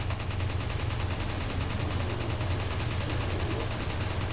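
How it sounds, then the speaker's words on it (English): Gunfire from a rapid-firing weapon in the video game Resident Evil 4, heard as a loud, dense, unbroken stream of shots with no pause for reloading, steady from start to finish with no voices over it. "You just keep shooting them with it, and eventually they go down."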